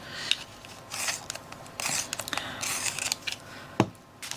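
A blunt coloured pencil is sharpened by hand in short bursts of dry scraping and grinding, with brief pauses and small clicks between the turns.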